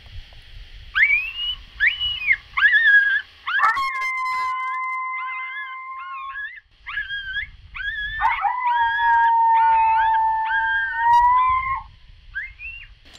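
A predator call imitating a coyote pup produces a series of short, yipping, warbling cries broken up by two longer, drawn-out howls, loud and close against a quiet background.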